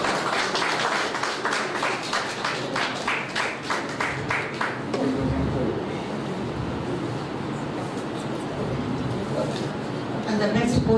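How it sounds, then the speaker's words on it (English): A conference audience applauds a best oral presentation award with sustained, fairly loud clapping for about five seconds. The clapping then gives way to a broad, washing crowd noise and murmured talk. "We have a big round of applause."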